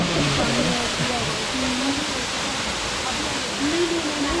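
Continuous rushing of water flowing from a spring in the Mastkhal hills, a steady near wash with faint voices talking underneath.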